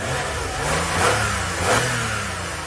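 A car engine with a suspected head gasket problem runs loudly and close, surging in two rev swells over a steady mechanical drone, with no voices.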